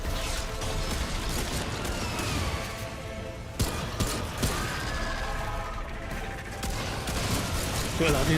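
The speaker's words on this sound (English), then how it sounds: "I'm using my pistol" Pistol shots in the video game Remnant 2, a few sharp cracks rising out of dense game effects and music, with a voice talking over them.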